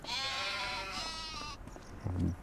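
Sheep in the Farming Simulator 25 game bleat in a long, wavering call followed by a shorter, lower bleat, fairly quiet with no talk over them.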